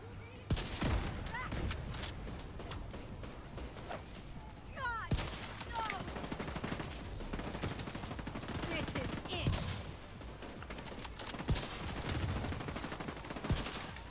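Gunfire rattles in The Division 2, with bursts of rapid shots and scattered single reports over about fourteen seconds, close and loud, while a voice talks intermittently.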